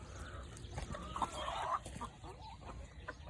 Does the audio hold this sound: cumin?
no